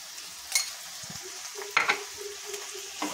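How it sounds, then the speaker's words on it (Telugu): Tomatoes with turmeric and salt cook in a pan with a soft, low sizzle. A few light scrapes and clinks of a spoon against the pan are spread across the moment. "కొంచెం టమాటాలు మగ్గనివ్వాలి."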